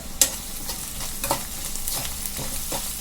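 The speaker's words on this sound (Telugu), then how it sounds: "2 ఎండుమిరపకాయలు, 2 డబ్బాల కరివేపాకు కడిగి వేసుకుంటున్నాను. ఇది బాగా వేపేసుకొని" Dried red chillies and curry leaves frying in hot oil for a potato curry, a steady crackling sizzle with sharp pops and spatters near the start and more bursts through the three seconds.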